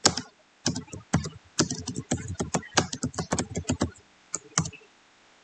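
Rapid clusters of clicks and taps from a computer keyboard being typed on in a quiet room, coming in irregular bursts with brief pauses, close and crisp.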